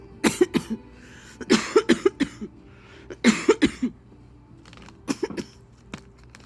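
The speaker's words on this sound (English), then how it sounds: "Look, I cough on purpose." A series of sharp, deliberate coughs in short bursts of two to four, with brief pauses between groups, close and clear.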